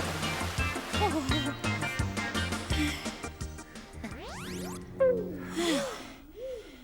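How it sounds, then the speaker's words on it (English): Cartoon splash in a children's puppet show as a little Hooble bobber drops into water, a brief bright splash burst with a rising whistle and bubbly tones over busy music, spoken voices nearby. "Look, 1, 2, 3, splash."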